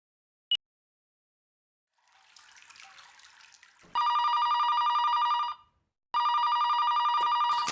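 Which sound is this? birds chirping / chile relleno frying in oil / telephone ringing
telephone ringing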